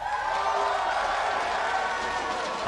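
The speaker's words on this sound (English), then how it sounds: "How many people want to see Seoul walk away with the win today?" A live esports crowd in Los Angeles cheers and applauds in a steady, loud roar that fills the whole moment, with no single voice standing out.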